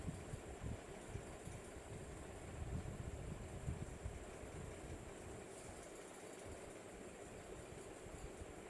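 A sewing machine stitches lace onto a blouse, giving a faint, steady whirring hum with a fast, even rattle that runs without pause.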